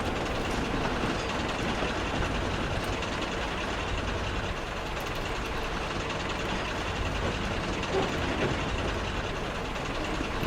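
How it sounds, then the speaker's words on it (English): Two diesel trains roll along railway tracks in a steady, loud, dense rumble with a constant rhythm and no pauses, close and without talk. "the two diesels set off for the other railway"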